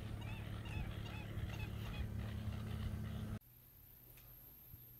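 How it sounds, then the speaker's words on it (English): Duck calls come from a large flock numbering in the thousands, a near, continuous chorus of honks and quacks that stops abruptly partway through and leaves faint background noise. "I see thousands of ducks."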